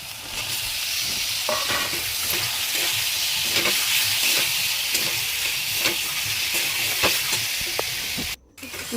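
Tomato and pre-boiled potato sizzle steadily in a frying pan while a spoon stirs and scrapes through them in repeated strokes, close and fairly loud, with no talking.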